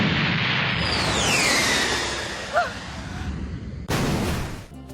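A swishing whoosh builds into a loud burst of noise, then cuts off sharply and gives way to a second noisy blast near the end, cartoon explosion effects from the anime One Piece.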